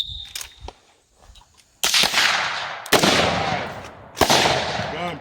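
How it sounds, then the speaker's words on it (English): Gunshots at a firearms training session ring out as three sharp, loud reports, each with a ringing decay, after a quieter stretch with a few faint clicks and a brief tone. "I ran out of ammo on this last shot and I had to reload."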